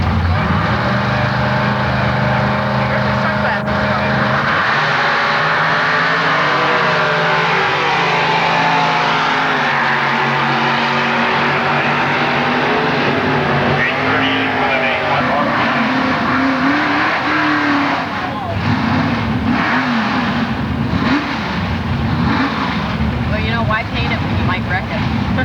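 A 1975 Mustang with 428 power and other Super Ford cars roar down a drag strip at Milan Dragway, engines loud and sustained, with an announcer talking over the noise throughout.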